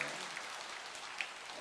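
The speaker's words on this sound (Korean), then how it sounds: "박수는 한번 쳐야지." Faint, sustained patter of audience applause during a Buddhist dharma lecture at the Tongdosa temple assembly, steady and distant with a few sharper claps standing out.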